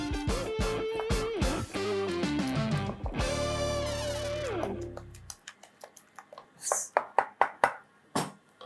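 Egg being stirred into a liver paste mixture in a bowl, irregular clinks and taps of the utensil that come in once the preceding music stops, growing louder toward the end.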